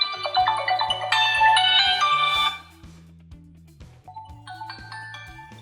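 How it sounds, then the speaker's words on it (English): An incoming-call ringtone on an Honor 8X phone plays a bright, melodic chiming tune over a steady beat, then abruptly drops to a quieter level partway through as the call is muted, the melody continuing softly. "you can simply flip your phone to mute an incoming call, alarm or a timer"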